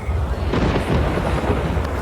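Heavy thunder rolls in a dense, loud, continuous rumble with a faint hiss like rain, with no voices over it.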